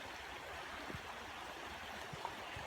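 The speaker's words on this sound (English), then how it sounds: "Creek's running." A rain-fed creek runs in a wooded setting, a soft, steady wash of flowing water heard from a distance, with faint low thumps.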